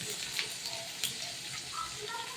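Bay leaf and cumin seeds sizzling in hot oil for a tilapia sour curry tempering, a soft, steady hiss with faint scattered pops, fairly quiet and without voices.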